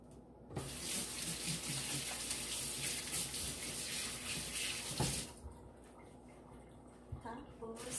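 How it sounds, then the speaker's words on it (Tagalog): Hands are washed under a running kitchen tap while a family dinner is being cooked. The water gushes steadily and loudly for about five seconds, then drops to a quieter trickle. "And then, wash my hands."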